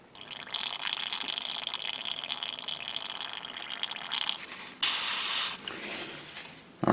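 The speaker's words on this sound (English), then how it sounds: "now I'm cleaning up the airbrush a bit" Airbrush hissing steadily as it sprays during cleanup after painting a Gundam Seed Freedom model kit, followed by a short, louder blast of air and a quiet tail. No voices.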